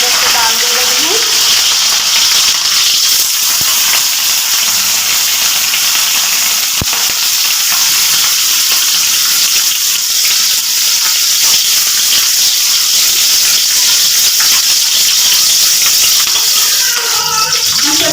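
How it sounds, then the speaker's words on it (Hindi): A bundle of drumstick (sahjan) pods fries in hot oil for a village-style dish, giving a loud, steady sizzle and crackle that runs unbroken from start to finish. "तो फ्रेंड्स देखिए मेरा तेल गरम हो गया है, तो मैं गट्ठर को इस तरह से डाल दे रही हूँ।"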